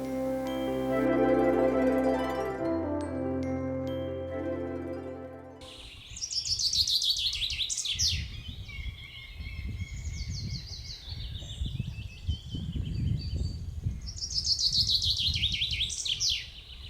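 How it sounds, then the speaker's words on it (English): Birds sing in the Kvarken archipelago, bright overlapping chirps and trills arriving in repeated bursts over a low outdoor rumble, following an opening stretch of sustained musical tones. "birds migrate back to the north"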